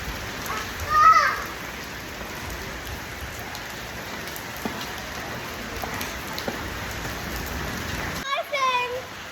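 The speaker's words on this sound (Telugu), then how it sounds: "కానీ ఇప్పుడు వడగళ్ళలు చూడు, బాగుంది కదండి." Hailstones fall steadily in a hailstorm, a dense, continuous patter close by across the whole span, with faint voices and a brief shift in the sound near the end.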